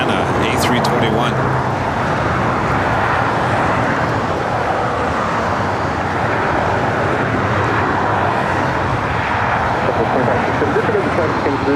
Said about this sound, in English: Next arrival is Delta Airlines Flight 377 coming in from Atlanta, A321.